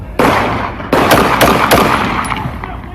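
Gunshots from a police officer's gun in an off-duty shooting at a sports bar: two sharp, loud broadband cracks about 0.7 seconds apart, then quicker fainter pops and reverberant rumble trailing off over three seconds.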